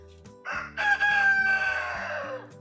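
A rooster crows loudly once, a long drawn-out call that rises and then trails off, close by, with faint background hum.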